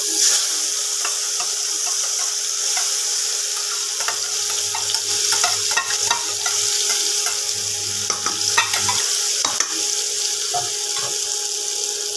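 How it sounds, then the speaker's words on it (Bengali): A ground paste of onion, ginger, garlic and green chilli fries in a kadai, giving a continuous close sizzle with scattered crackles and stirring scrapes, no voices. "এবার মশলাটা কড়াইয়ে দিয়ে দেবো।"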